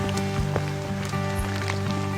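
Raindrops falling in a quiet, wet forest, scattered close drips and patters over a soft background hiss, with a few sharper individual drops standing out.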